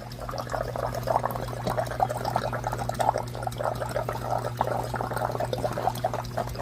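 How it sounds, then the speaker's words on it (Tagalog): Water from an airlift filtration system splashes steadily into a crayfish tank, a continuous close trickling and gurgling pour over a low steady hum, with no talking. "So, dito po, makikita nyo po ito, bumabagsak na yung tubig."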